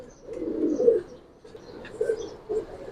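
Pure-line Giribaz pigeons coo close by in a quiet setting, giving two or three soft, throaty, rolling coos with short pauses between them.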